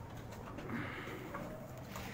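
Soft pigeon cooing against a steady background hum, low murmuring calls without any voices.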